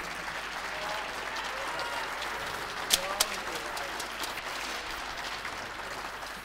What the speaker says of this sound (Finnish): Huikeat aplodit.